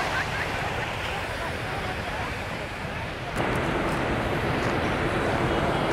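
Sea surf rolls in at Nha Trang beach along Tran Phu street in Vietnam, a continuous broad wash of waves with wind buffeting the microphone that grows louder partway through.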